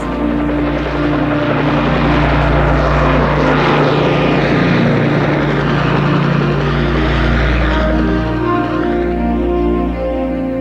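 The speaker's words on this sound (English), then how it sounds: "Boeing went on to develop the Chinook battlefield helicopter" A loud, continuous Boeing Chinook helicopter drone with heavy rotor thumping and engine roar, sustained close overhead without any speech.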